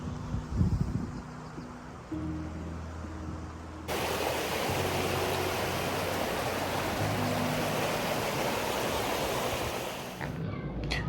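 The Kosi river rushes near Mohan village in Corbett, a broad steady roar of flowing water that starts quieter and then swells into loud continuous rushing after a few seconds, cutting off at the end.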